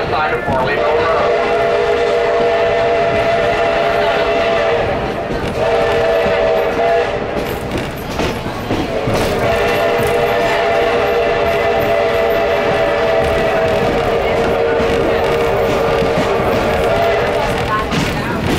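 A train rumbles past continuously, its horn sounding in long sustained blasts with a short break between them.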